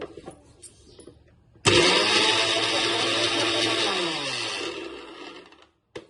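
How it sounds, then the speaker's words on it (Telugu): A kitchen mixer grinder jar holding ajwain (carom seeds) and salt starts abruptly after a quiet moment and runs with a loud, steady whirring motor drone for about three and a half seconds. It then winds down and cuts off, with a faint click near the end. "మిక్సీ చేయాలండి."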